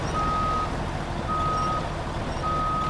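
A reversing truck in the video game SnowRunner sounds three evenly spaced, piercing beeps over a constant low engine rumble, with no one talking.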